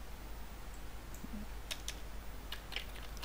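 Typing on a computer keyboard while entering a login domain, with a few sharp key clicks clustered toward the end over a steady low hum, close and fairly quiet, no talking.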